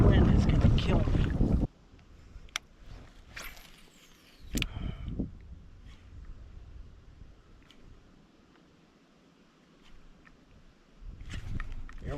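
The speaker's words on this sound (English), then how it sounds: "This wind is gonna kill me." Wind gusts on a pond batter the microphone during boat fishing, with loud rumbling bursts separated by calmer, quieter stretches and some speech.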